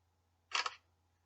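A phone camera shutter clicks once while scanning a business card, a short crisp double-click close by, alone against a faint low hum.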